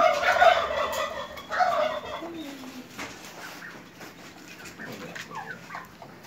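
Turkeys gobble in loud, rapid warbling bursts at the start, then quieter bird clucks and calls continue in a noisy farmyard setting with incubator-hatched chicks.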